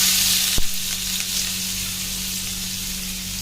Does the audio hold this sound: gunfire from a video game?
no